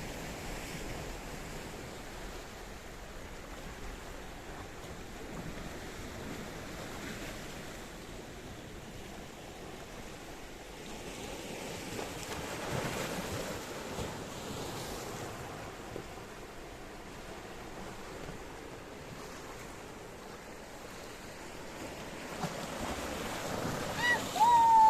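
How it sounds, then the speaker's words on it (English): Choppy Mediterranean sea waves wash steadily at Kato Paphos harbour in Cyprus, a continuous broad surf wash with gusts of wind, rising slightly louder toward the end, with no voices. "when I come closer to the sea, it's becoming very angry, very chopsy and very mopsy"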